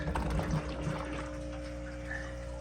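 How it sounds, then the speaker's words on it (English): A pump pushes water through a service hose from a reserve tank back into an aquaponic fish tank, making a steady rushing flow over a constant low motor hum. "that sucks the water from there and puts it back into the fish tank"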